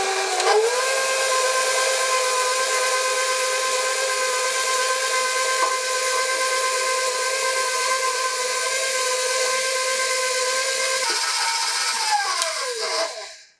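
An electric mixer runs at low speed, beating keto lemon cake batter. It gives a steady, loud whine for over ten seconds, shifts slightly near the end, then winds down and stops.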